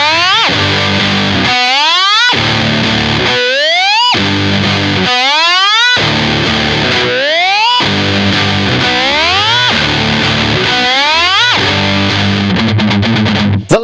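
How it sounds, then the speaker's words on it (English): An electric guitar riff played through whammy, overdrive distortion and Big Muff pedals, loud and saturated, with repeated pitch-sweeping whammy bends rising in bursts separated by brief gaps, in a heavy rock part. "Whammy, overdrive distortion, big muff."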